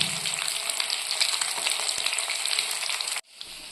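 Rohu fish sizzling loudly in hot oil in a pan, a steady dense frying hiss close by with no talk, cutting off sharply near the end before a faint hiss resumes.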